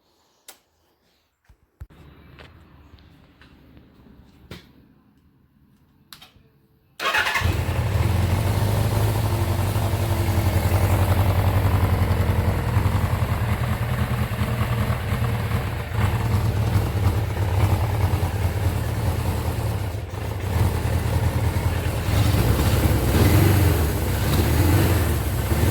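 A 1979 Suzuki GS750 motorcycle engine in a garage, first started after 36 years, catches after a few quiet clicks and then settles into a loud, steady idle that runs on without talk.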